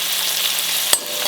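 Chopped garlic and ginger sizzle steadily in hot oil, a continuous close frying hiss with one sharp clack of a utensil against the pan near the end.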